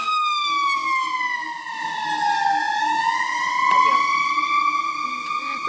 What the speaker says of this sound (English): it's fire trucks.